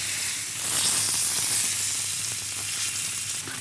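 Honey chicken sizzles steadily in hot oil on a grill, a continuous close, bright hiss with no talk over it.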